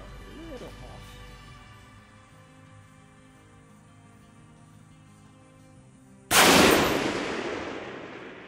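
A single loud Ruger SFAR rifle shot firing a Match King load cracks sharply outdoors and rings off into a long decaying echo, after a stretch of quiet background.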